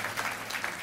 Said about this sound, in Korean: 우리 박수로 한번 환영하도록 하겠습니다.